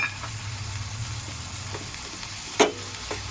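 Moth bean sprouts (matki) tossed into a hot pan with peas give a soft, steady sizzle, with a single louder burst of frying near the end and no voices.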